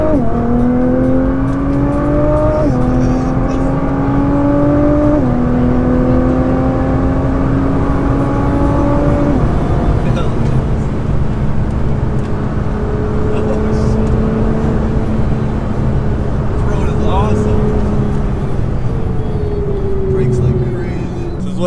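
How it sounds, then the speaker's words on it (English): An R35 Nissan GTR accelerates hard, its engine note climbing in rising pitch sweeps through several gear changes before settling into a steady cruise hum, heard from inside the car and loud throughout. "Hopping in the GTR. Never gone on an actual drive in a GTR,"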